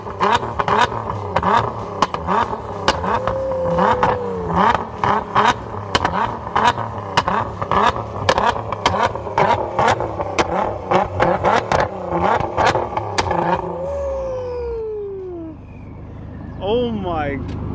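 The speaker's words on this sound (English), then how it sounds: "I feel like BMW's rev are way louder." A BMW engine revs hard again and again in loud, rapid bursts that rise and fall, close by, with people talking over it, before the engine settles toward the end.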